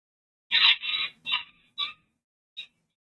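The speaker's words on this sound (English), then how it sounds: "Oh, apparently some birds are fighting." Birds squabbling outdoors, a burst of harsh, fowl-like squawks and clucks followed by three shorter calls trailing off, the last one faint, with no talk.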